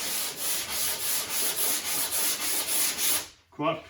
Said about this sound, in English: sanding in a crisp gloss pattern